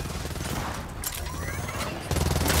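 Heavy weapon fire from Gears of War 4, a dense, loud burst of rapid shots with rumbling low impacts, a brief lull, then another strong blast near the end, with voices faintly underneath.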